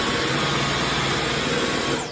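Dyson V11 Absolute cordless stick vacuum running on medium power gives a steady, close, whooshing motor whine with airy broadband hiss, continuous throughout and tapering slightly at the very end.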